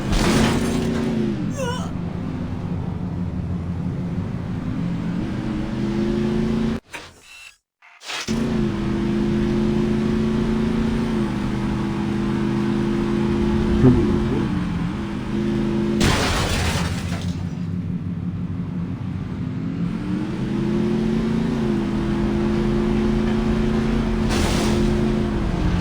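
A car speeding along in the video game Saints Row, its engine droning steadily with brief cuts and surges, a crash or impact partway through and occasional scraping bursts.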